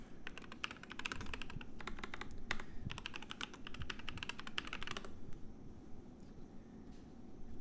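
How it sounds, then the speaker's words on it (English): Rapid keystrokes on a computer keyboard clatter in dense bursts for about five seconds, close and steady, then stop, leaving quiet room noise. "I'm going to type that in, bro."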